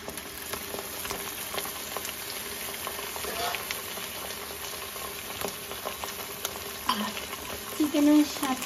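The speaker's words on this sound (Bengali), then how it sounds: "এই যে চিকেনটা এখন ছাড়িয়ে দিব। পেঁয়াজটা ব্রাউন হয়ে গেছে।" Chicken pieces fry in a pan with browned onions, sizzling steadily while a utensil stirs and scrapes now and then, with a louder clatter near the end and no talking.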